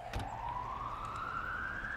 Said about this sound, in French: Sirène de police, la nuit il pleut.